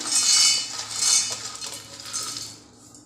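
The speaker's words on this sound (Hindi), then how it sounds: "तो चलिए अब हम एक मिक्सर का जार ले लेते हैं। इसके अंदर हम पीनट्स को मूंगफली को डाल देते हैं।" Shelled peanuts being tipped into a metal mixer-grinder jar in a home kitchen, two bright rattling pours followed by lighter scattered clinks that fade out, close and clear with no talking.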